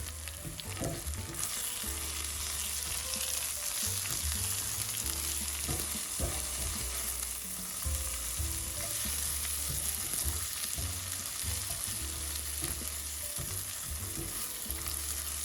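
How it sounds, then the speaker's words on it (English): Chives, garlic and parsley sautéing with fennel in vegan butter and olive oil, a steady, crackling sizzle in the pan with repeated low scraping and stirring knocks throughout, no talking. "I'm going to add my chives, garlic, and my parsley to the pan with my fennel to saute"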